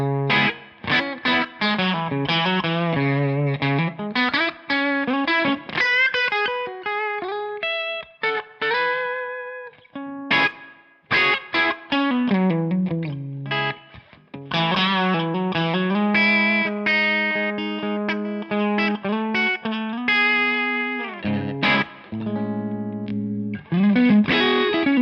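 Electric guitar played through a Matchless Chieftain tube amp on the high input, with chords and melodic runs and a warm, mildly driven tone that rings out between phrases.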